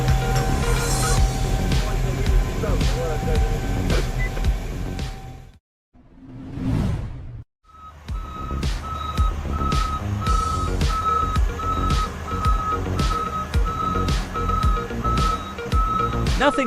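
Large mining dump trucks, including Bell and a giant XCMG hauler, working in a rainy gold-ore quarry: repeated reversing beeps over heavy engine drone, broken by a brief whooshing pass and a short near-silent gap.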